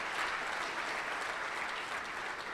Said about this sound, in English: please join me in a round of applause for all the people that you see